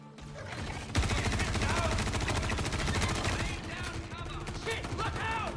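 Gunfire rattles in a Star Citizen firefight as dense, overlapping rapid bursts of shots, loud and continuous for the whole stretch with no let-up.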